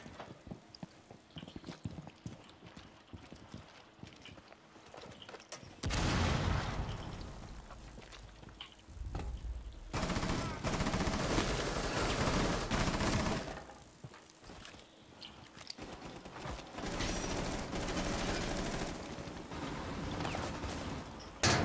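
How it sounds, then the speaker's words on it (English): Gunfire from the video game Rainbow Six Siege, shots fired through a wall in a chalet during a terrorist hunt, including shotgun fire; loud dense bursts of rapid shots come in several long stretches, broken by brief quieter gaps. "Shooting through the wall in front of you."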